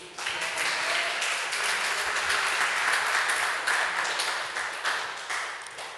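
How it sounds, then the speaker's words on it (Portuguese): Dense, sustained applause from a church congregation, many hands clapping loudly and evenly for several seconds before tapering slightly at the end. "Você pode aplaudir o Senhor Jesus?"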